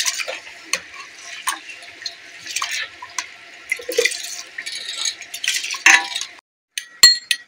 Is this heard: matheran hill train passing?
no